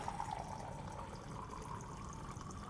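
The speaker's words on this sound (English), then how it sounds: "we want to dispense 1 cup of water. So we're going to go ahead and dispense." A water dispenser runs a one-cup calibration fill, giving a steady, faint stream of flowing water into a cup, continuous and low-level without pauses or voices.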